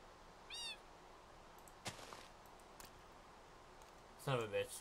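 A cat meows in the Minecraft video game, a few short rising calls with clicks between them, the loudest burst near the end.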